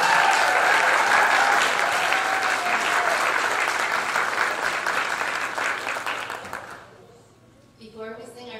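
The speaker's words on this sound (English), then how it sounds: "So please give a round of applause." Sustained audience applause at a high school choir spring concert, loud and dense for about seven seconds before fading out, with a voice starting to speak as it dies down.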